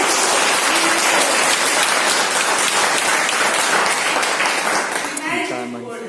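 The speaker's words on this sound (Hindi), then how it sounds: "एक बार जोरदार तालियां आपको नेपाल का टूर मिलेगा" Loud, sustained applause from an audience at a business event in Nepal-tour prize ceremony setting, a dense wash of clapping that fades slightly near the end, with voices mixed in.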